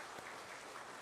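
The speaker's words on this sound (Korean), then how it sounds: "박수 한번 하겠습니다" Congregation applauding the choir in a church during a Sunday service, a faint, even patter of clapping throughout.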